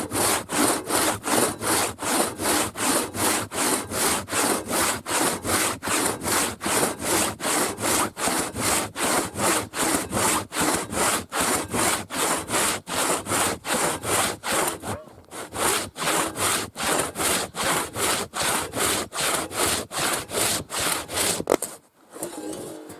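A manual bow saw cuts firewood outdoors in the taiga in a steady back-and-forth rhythm of loud rasping strokes, close up. It pauses briefly midway and stops near the end.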